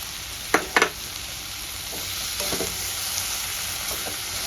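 Pre-fried paneer and four slit green chillies go into a hot pan of cabbage ghonto. A few sharp clatters mark them landing, and then a steady, bright sizzle carries on alone.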